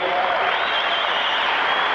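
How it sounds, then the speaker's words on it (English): A crowd at the 1994 Honda convention in the MGM Grand, Las Vegas, applauds in an unbroken wash of clapping that stays loud and even throughout. "Hold your applause, ladies and gentlemen, please."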